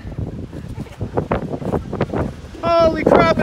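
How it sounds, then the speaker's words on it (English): Heavy gusting wind of about 50 mph on a winter mountain summit in the Adirondacks buffets the microphone in loud roaring bursts while people talk and shout, rising into a sustained rushing blast near the end. "it's windy up here"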